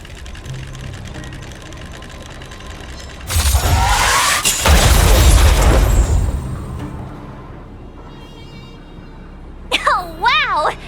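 Explosion in a video game: a sudden loud blast with a crackling, debris-filled roar that lasts a couple of seconds and then fades into a quieter hum, followed by brief voice-like game sounds.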